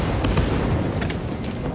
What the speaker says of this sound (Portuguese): Essa metralhadora aqui, ela é bem mais forte